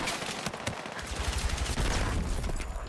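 Shotgun fire in the video game Battlefield 6 comes as a dense, loud barrage of overlapping blasts and gunfire that runs continuously through the whole moment.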